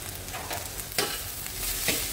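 Nasi goreng with caramelized sweet soy sauce sizzles steadily in a pan on a home stove, with scraping stirs of the spatula breaking through at intervals, close and unaccompanied by talk.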